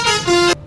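A car horn honks in two short close blasts, the second held steady for about a quarter second before cutting off abruptly.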